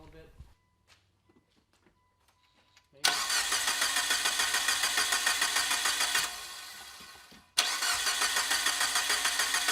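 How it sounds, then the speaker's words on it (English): Engine of a rusty 2003 Mitsubishi Lancer Evolution VIII cranking with a rhythmic pulsing starter whir after a quiet lead-in, pausing briefly, then cranking again, loud and close. "it took a while to crank before it fired"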